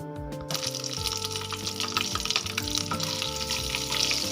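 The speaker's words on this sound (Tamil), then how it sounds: "கடுகு நல்லா பொரிஞ்சு" Mustard seeds splutter and crackle in hot oil while tempering kollu rasam (horse gram soup), a steady close sizzle with popping bursts over quiet background music and no speech.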